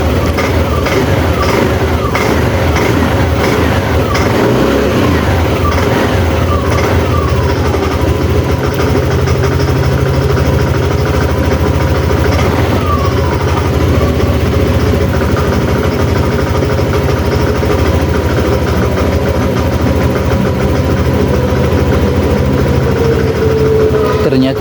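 A Yamaha scooter under repair for an ECU and charging fault starts up and settles into a loud, steady idle that hums close by for the whole stretch, with some faint talking beneath it.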